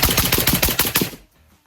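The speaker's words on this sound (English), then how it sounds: "let's pop off 5 rounds real quick, see if she eats them" A rapid string of suppressed AK rifle shots through a ZVUK suppressor, each a sharp, loud crack in quick succession, then ending abruptly into quiet.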